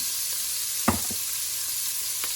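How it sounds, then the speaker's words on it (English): Chicken and onions sizzle in a hot pan with a continuous frying hiss, broken near the start by a sharp clatter and a couple of soft knocks as onions go in, with one faint tap later. "I'm going to throw my onions in as well"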